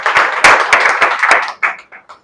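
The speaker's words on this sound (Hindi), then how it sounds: "बहुत बहुत धन्यवाद, ताली बजाइए इनके नाम पर।" Children in an audience clap for a bank zonal manager, a burst of fairly loud, close applause that thins into a few scattered claps toward the end.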